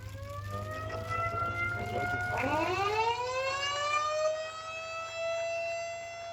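A civil defense siren winds up at the opening of a sanitary landfill in East Java, rising steeply in pitch and then holding a steady wail, heard at moderate distance over a low hum.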